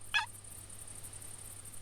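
A wild turkey in The Hunter hunting game gives one short, sharp gobble at a distance, followed by a steady outdoor game ambience with a faint high insect-like hum.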